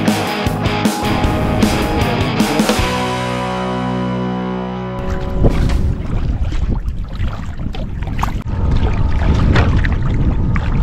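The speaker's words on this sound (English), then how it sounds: "Let's go for a paddle." A kayak being paddled on a lake on a breezy day, with close water splashes and strokes mixed with wind buffeting the microphone, following a short tonal musical passage.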